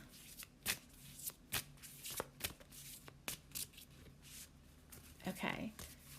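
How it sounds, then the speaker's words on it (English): Tarot cards are shuffled by hand in quick, papery riffles and soft slaps, close and fairly quiet, with a short burst of rustling near the end. "let's pull a card about Sarah."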